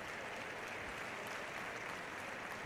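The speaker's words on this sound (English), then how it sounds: "nice round of applause from the appreciative Sports City Coliseum crowd here in Havana" Applause from the judo crowd at the Sports City Coliseum in Havana during a Grand Prix bronze bout, a faint, distant, steady wash of clapping filling the short stretch.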